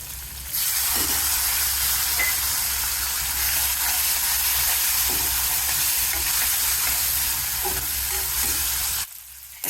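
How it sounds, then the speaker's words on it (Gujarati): Cashews, chillies and tomatoes sizzle loudly and steadily in hot oil in a pan, a close continuous hiss with faint stirring knocks, cutting off abruptly near the end, no talking. "અને કાજુ અને મરચા ટમેટા એ નાખી જ દઉં"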